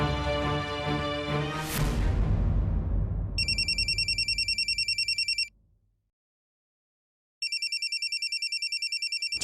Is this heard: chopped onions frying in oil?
no